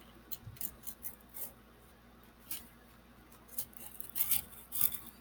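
Pages being cut from an old book along the groove, quiet, irregular snips and scraping cuts in short bursts, close and faint, with no talk.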